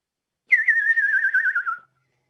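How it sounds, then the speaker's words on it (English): A single whistle from high up among rocks, one steady warbling tone lasting just over a second that drifts slightly downward in pitch, clear and fairly loud against silence, with no voices. "And then from high up in the rocks, Geen, you hear a whistle."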